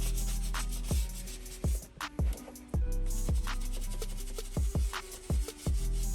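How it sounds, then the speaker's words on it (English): Golf shoes being scrubbed with a horsehair brush: repeated rough brushing strokes in an uneven rhythm, close and fairly loud, with sharp knocks between strokes over a steady low background. "Take the included horsehair brush and scrub down real good"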